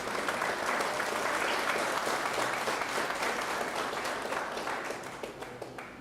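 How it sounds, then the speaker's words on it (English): An audience at the launch of the NGC SANFEST 2014 arts festival in Trinidad and Tobago applauds its corporate sponsors with loud, sustained clapping from many hands that tapers slightly near the end. "I think that they deserve a round of applause"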